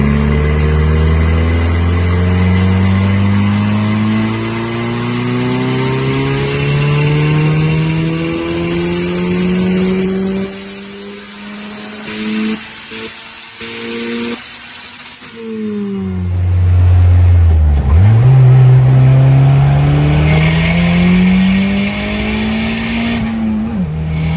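EcoBoost-swapped Mazda Miata engine on a chassis dyno, revving in long rising pulls with strong harmonic climbs, a brief lull and shift in the middle, then another loud sweep up to high RPM, steady and close with no talk.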